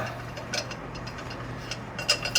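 MATCO combination wrench working on a nut, heard as faint scattered metallic clicks and ticks over a low steady background hum, with a slightly louder click near the end and no talking.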